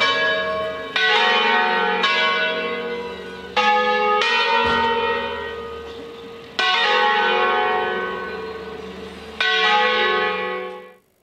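Large church bells in Torrazza Coste, Italy, toll one after another, loud and resonant, each strike ringing out and overlapping the fading hum of the last.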